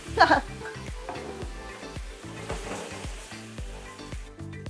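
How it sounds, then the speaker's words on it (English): Sauce poured into a hot pan with tofu for lettuce wraps hisses as it hits the pan, a loud burst at first that settles into a steady close sizzle over stirring scrapes. "Then we're gonna add some of our sauce to the pan."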